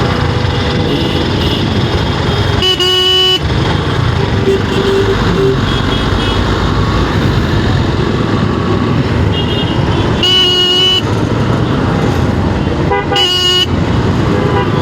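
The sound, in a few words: motorcycle horn honking in traffic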